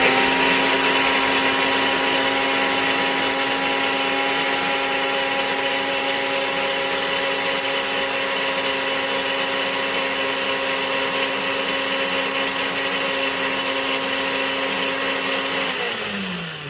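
A blender whirs steadily as it mixes high-protein waffle batter with chia seeds in a tiny RV kitchen, one long unbroken motor drone that holds the same pitch for about sixteen seconds and then winds down at the very end.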